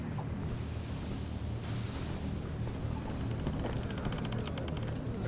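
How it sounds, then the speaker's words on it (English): Water lapping against the hull of a fishing boat, a steady low wash of sea and wind that runs continuously through the whole stretch with soft slaps and ripples, fairly loud and close, with no voices over it. "You can hear the lapping of the water against the hull."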